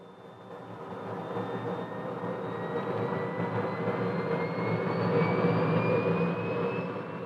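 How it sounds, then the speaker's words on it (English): A Handley Page Victor bomber comes in to land and rolls to a stop, its jet engines a steady broadband roar with a slowly rising whine, building gradually louder across the whole stretch. "The nose is gently lowered and the aeroplane brought to rest."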